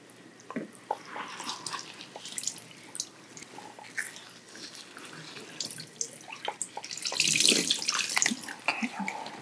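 Water splashes and drips while rinsing hair during an ASMR scalp wash, a close, soft, irregular trickle with scattered droplets and a louder gush near the end.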